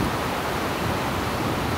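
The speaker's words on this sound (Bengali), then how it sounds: "বৃষ্টির শব্দ আপনারা শুনতে পাচ্ছেন" Heavy rain pours in Shahinbagh, Dhaka, a loud, dense, unbroken hiss of falling water that stays constant throughout, with no voices.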